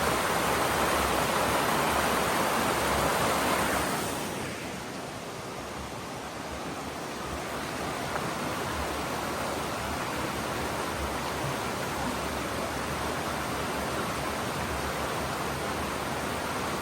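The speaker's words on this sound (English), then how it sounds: "This is the Gold Brook." The Gold Brook stream flows below a big bridge in the woods, a steady broadband rush that is louder at first and then settles to a slightly softer, even wash with no talking.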